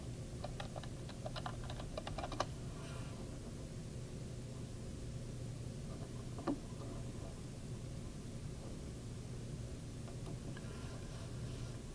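Soft clicking of keys as someone types on a computer keyboard in short bursts, faint over steady room hiss.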